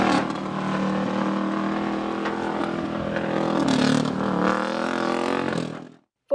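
Cal State Fullerton's student-built Formula SAE race car drives past nearby, its engine droning loudly with shifting pitch as it revs and accelerates, then cuts off abruptly near the end.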